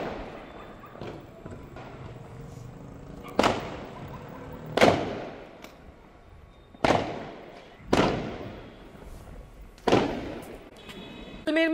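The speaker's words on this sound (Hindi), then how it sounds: "विराट कोहली के फैंस ने जमकर पटाखे फोड़कर एक दूसरे को मिठाई भी खिलाई है" Firecrackers set off by cricket fans celebrating a Royal Challengers Bengaluru IPL final win near Jaisalmer's Sonar fort, five or six sharp loud bangs at uneven intervals, each with a decaying tail, over a low crowd murmur.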